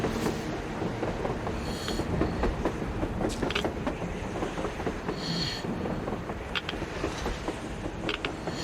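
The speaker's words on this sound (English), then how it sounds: "A train! A damn train on the surface!" A video game train rumbles steadily along its rails on the surface with metallic creaks and clacks, a continuous loud mechanical roll and no voices.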